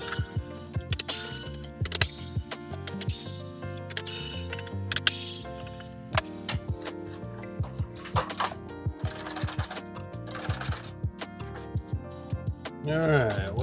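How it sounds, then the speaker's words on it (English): Clicks and rattles of a game bit working the back screws out of a Super Nintendo console, a series of close, sharp mechanical ticks with short pauses between. "you are going to need a game bit to take out these screws on the back here"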